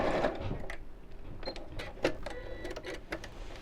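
A sewing machine runs along the edge of half-hexagon cushion cover pieces with a close, steady whir, broken by small clicks and ticks of fabric handling, and no talk.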